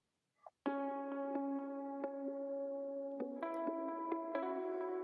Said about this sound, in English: So in the verse, I have the funk guitar and the lead guitar, which I panned not all the way left and right